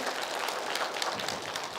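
Applause from an audience of older adults at a 2018 county culture lecture in Geochang, Korea, a steady, faint wash of many hands clapping at a distance, with no talking over it.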